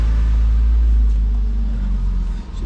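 A Porsche Boxster 987 with the 2.7 engine and manual gearbox idles as it settles after a cold start, giving a loud, steady low rumble that dips slightly near the end; no one speaks.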